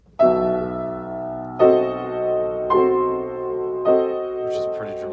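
A piano chord with the bottom A left out is struck four times at a slow, even pace, each ringing and decaying before the next, with a faint high sound near the end.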